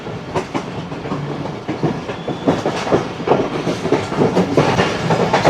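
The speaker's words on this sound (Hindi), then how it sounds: "कराकरम एक्सप्रेस निकल ली है कराची कैंट से" The Karakoram Express pulls out of Karachi Cantt, wheels clattering over rail joints in a loud, uneven rhythm of clicks and knocks with steady rumble underneath, close by and without talk.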